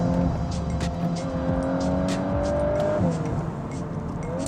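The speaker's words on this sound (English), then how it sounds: "this car with the performance pack also gets that Acura exhaust, and that means that it makes all the right noises" Exhaust note of a Volkswagen Golf R Performance Pack with an Akrapovič exhaust as it drops gears, a loud, steady engine drone with rising and falling pitch and sharp crackles and pops bursting over the top.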